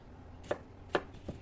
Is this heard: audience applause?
no